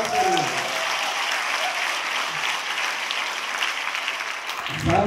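Loud sustained applause from an audience for a dancer, dense steady clapping lasting several seconds with a brief voice near the start and end.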